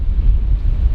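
Heavy wind buffets the microphone on a boat dock, a steady low roar with no voices.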